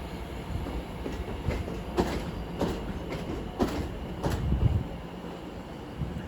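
London Overground train, a class 710, arriving and terminating at Watford Junction from London Euston: rolling wheel rumble with repeated rail clicks and a few sharp metallic bursts, fairly close and steady.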